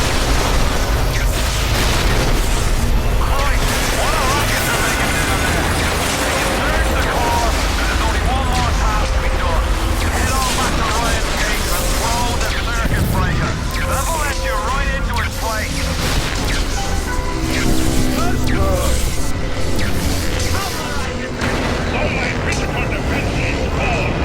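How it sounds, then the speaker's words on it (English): A loud, continuous roar of explosions and booming blasts in Bioshock, with steady heavy rumble and crackling bursts throughout, dense game noise layered under it. "That's a big bomb."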